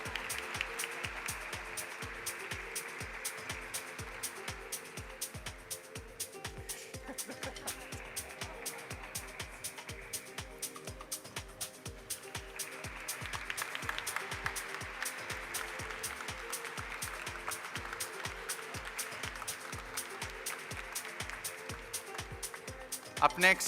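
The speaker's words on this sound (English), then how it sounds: "Pragya needs some more applause," Sustained audience clapping for Pragya at the Eureka Forbes Limited listing ceremony, rising and falling over a steady thumping music beat, with a voice talking over it at times.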